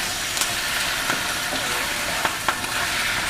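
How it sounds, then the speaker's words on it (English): Cos lettuce and prawns stir-fry with oyster sauce in a hot wok, sizzling loudly and steadily with occasional scrapes and clinks of the spatula. "Okay, now put a dash or two of oyster sauce. Give it a quick stir."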